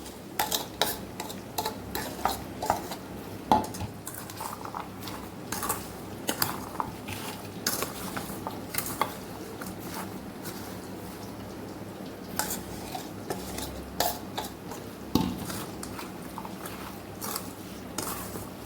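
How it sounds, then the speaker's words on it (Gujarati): Spice masala being stirred into chopped raw mango for an instant pickle, a steady run of soft scraping and clinking strokes of a spoon against a bowl, close and alone with no talk. "આની અંદર આપણે મસાલાને ભેળવી દઈશું"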